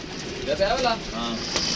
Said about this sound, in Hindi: कमाल का कबूतर है ये